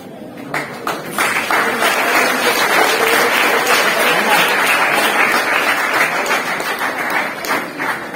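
Students at a school event honouring an English-speaking teacher break into loud, sustained applause, building quickly after a few scattered claps and holding steady as a dense crowd clapping throughout.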